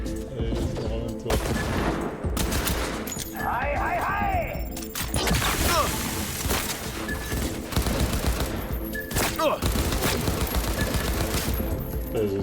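Sustained gunfire from a shooter in Cyberpunk 2077, dense bursts and rapid shots filling the whole stretch at steady loudness, with brief pauses between volleys and no talking.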